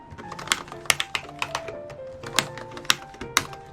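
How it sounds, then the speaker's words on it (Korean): Keys clack on the cheap metal-bodied CarryBook T Pro laptop, a Gemini Lake N5000 budget machine, in quick irregular taps, hard and close, with no voices. "실제 타이핑에서도 이렇게 걸리면서 소리가 나는데 그냥 키보드 퀄리티가 저질인 거죠"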